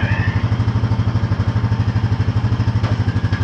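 A 2014 Honda Foreman 4x4 TRX 500 ATV engine chugs at a steady, close-up idle-to-low throttle, with an even, rapid pulsing thump throughout and no talk.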